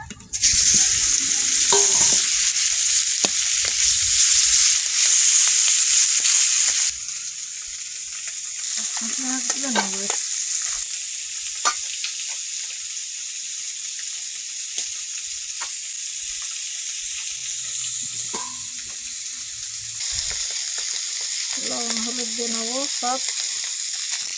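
Fish sizzle and spit loudly in hot oil in a pan. The frying is strongest at the start, then settles into a steady sizzle under occasional stirring clatter and brief bits of speech.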